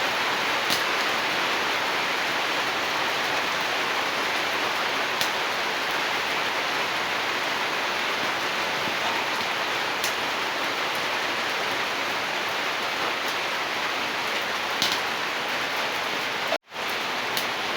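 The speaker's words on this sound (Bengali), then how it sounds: "ইতিমধ্যে আবার বৃষ্টিও নেমেছে" Steady rain pouring down in a village, a dense even hiss close by with a few faint drips and knocks, continuing without pause and ending in a brief dropout.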